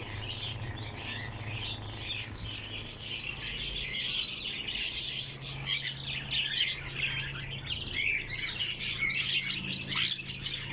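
Several African Grey parrots call and chirp in a bird shop, a busy run of close, bright squawks and tweets overlapping without pause beneath a low steady hum.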